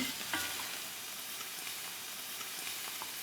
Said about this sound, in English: I'm gonna sear the shrimp first